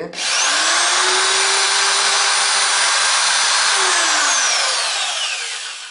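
An electric drill whines steadily and loudly for several seconds as it bores through wooden toothpicks, its pitch dipping slightly under load before winding down near the end.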